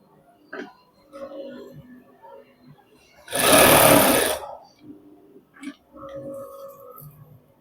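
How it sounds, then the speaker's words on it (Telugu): A sewing machine stitches a shirt in one loud whirring burst of about a second, framed by quieter handling clicks and low voice sounds before and after. "ఇప్పుడు పైనుంచి కుట్టేసుకుందాం."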